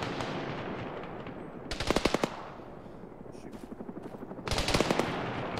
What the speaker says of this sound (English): Who's ever shooting at us?